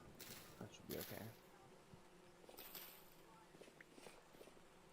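Bees buzz around a hive in the video game Vintage Story, a soft, steady insect drone with a few louder passes as a bee comes close, heard alone without talk.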